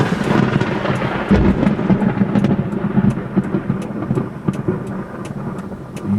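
Thunder from a multiple-bolt lightning strike roughly 300 meters away during a Florida thunderstorm, a loud low rumble that rolls on for several seconds with sharp crackles.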